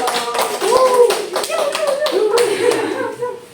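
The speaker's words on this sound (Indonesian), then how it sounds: "Oh, tepuk tangan untuk kebenaran apresiasi." A classroom of students claps for group 2 during a physics lesson on static electricity, a short burst of fairly loud, dense hand-clapping with voices calling out over it.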